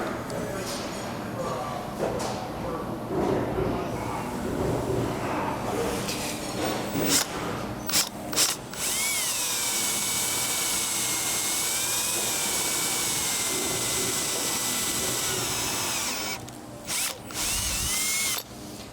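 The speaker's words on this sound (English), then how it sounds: "It's easier to drill a pilot hole and then go from there for the tap." A power drill bores a pilot hole for tapping in a Predator small engine being converted for kart racing, loud and close with sustained whining runs broken by brief pauses and bursts.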